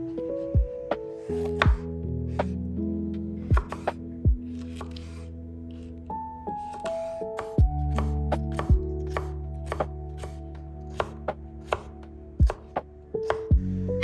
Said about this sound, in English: Now take some red and yellow bell peppers and chop them into small cubes.